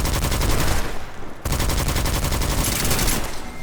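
Rapid, dense gunfire from a gun in the first-person game Witchfire, a loud continuous burst with a brief break near the middle before firing resumes, no talk over it.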